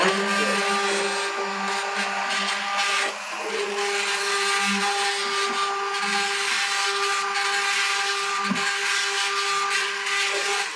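A blender whirs steadily and loudly as it purées roasted sweet potato and ginger soup with lemon juice, a constant motor drone with faint shifting hum and no talk over it.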